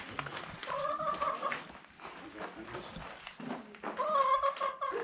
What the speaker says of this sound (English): There's real chickens.